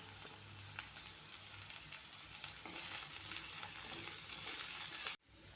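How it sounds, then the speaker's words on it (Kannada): Ginger, garlic and cashews frying in oil in a pan, a continuous close crackling sizzle with stirring scrapes, ending in an abrupt cut and a quieter tail. "ಎಣ್ಣೆಯಲ್ಲಿ ಫ್ರೈ ಮಾಡ್ಕೊತಾ ಇದ್ದೀನಿ"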